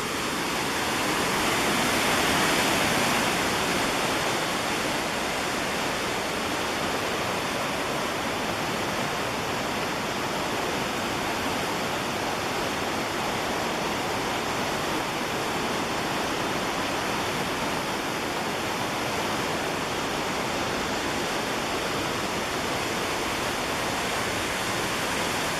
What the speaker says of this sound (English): I probably can go over the sound of the water with my voice. But there's the Linville Falls.